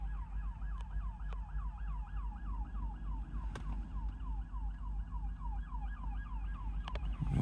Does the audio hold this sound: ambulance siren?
yes